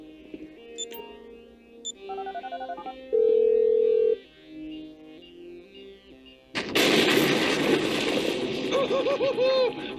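A phone is dialed in GTA V: a string of short electronic keypad tones and beeps plays, then gives way to a loud, dense burst of gunfire-like noise that continues to the end.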